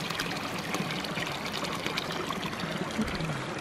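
Hot spring water trickles and splashes steadily into an onsen bath in Japan, a faint continuous burble with no voices.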